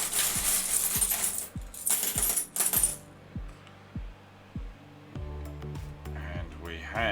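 Pre-decimal British coins, including a 1930s halfpenny, clink and drop one after another in a steady series of bright metallic taps, close and distinct, with a voice speaking over parts of it.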